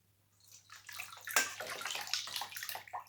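Water pours and drains through the holes of a colander holding orange pieces, a close splashing, gurgling rush that builds from near silence and keeps running steadily to the end.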